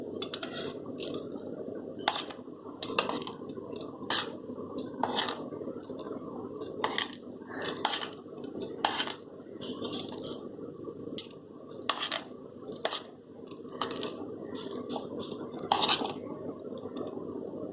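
Repeated scraping and clinking of a spoon against a pan as sago and crushed peanuts are stirred, in an uneven rhythm with faint background noise.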